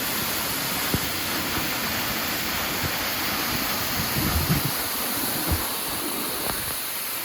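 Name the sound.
waterfall at Ban Huai Huat, Thailand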